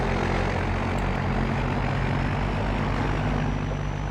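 A tractor engine idles in the video game Farming Simulator 25 with a loud, steady droning rumble that holds unchanged throughout, close and with no voices.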